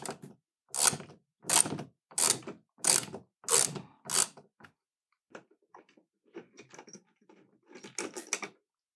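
A universal socket attachment on a ratchet loosens fasteners set into a wall, giving six quick bursts of loud clicking ratchet turns, then scattered quieter clicks and a final burst.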